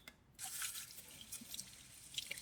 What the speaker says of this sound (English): I'm just going to strain these out because you don't really want the bean water.